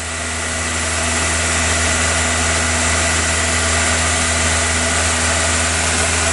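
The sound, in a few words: VW Golf Mk3 engine held at high idle, about 2500 rpm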